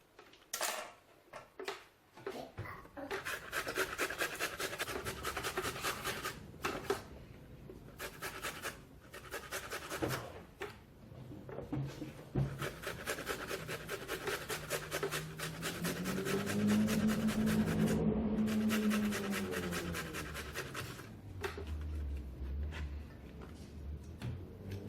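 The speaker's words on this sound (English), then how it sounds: "I'm going to grate the tomato in here." Tomato rubbed against a hand grater, a long run of close, rhythmic rasping strokes with short pauses between bursts, loud and steady, with no talking.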